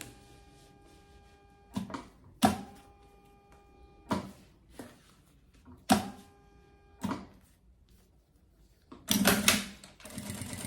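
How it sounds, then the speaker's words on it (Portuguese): Sewing machine putting an edge stitch on a travel bag: several short, close bursts of stitching separated by quiet pauses, with a longer, louder run near the end. "aqui a gente vai passar uma costura de beiradinha"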